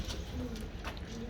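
Ferozpuri pigeons coo in a breeder's loft, a steady low murmur of overlapping calls with a thin tonal hum running through, continuous and moderately close for the whole stretch.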